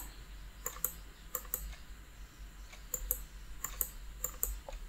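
Computer keyboard keys pressed in short clusters of quick, crisp clicks with brief pauses between bursts, close but quiet over a faint low hum.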